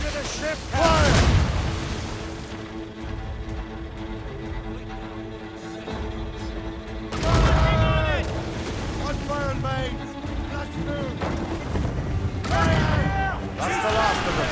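Ship cannons fire in a naval battle in the video game Assassin's Creed Rogue, with three heavy booming volleys rolling out over steady sea and wind noise while crew voices shout in between.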